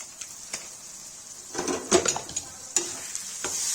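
A spoon scrapes and clinks through mutton masala in a frying pan, with a few sharp metallic knocks and faint sizzling between the strokes, close and moderately quiet.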